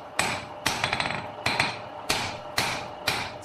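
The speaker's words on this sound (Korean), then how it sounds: "또다시 셀 수 없을 만큼 많은 망치질이 시작되는데" A traditional swordsmith hammers forged steel into a sword blade, with loud, ringing metallic blows in a steady rhythm, about six strikes each followed by quick lighter rebounds.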